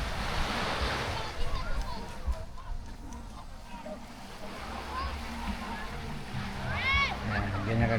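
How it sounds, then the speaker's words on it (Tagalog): Sea waves wash steadily along the shore at Dolores seaside resort on Samal, a continuous surf roar with some wind, while a person speaks over the water throughout. "Ang ganda ng dagat nila."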